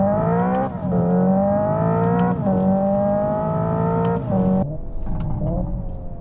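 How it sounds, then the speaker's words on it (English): A Hyundai Ioniq 5 N electric car's synthetic engine note hums and rises in steady steps like gear changes, with a buzzy, rattling fake exhaust texture, close and continuous without talk. "it's even like fake rattly exhaust sound at the back"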